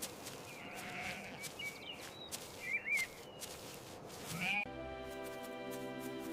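Sheep bleat intermittently out in a grassy meadow over a steady outdoor hiss, a few calls near and clear, followed by a longer sustained bleat at the end.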